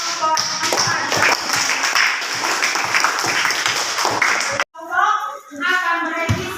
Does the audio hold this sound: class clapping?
yes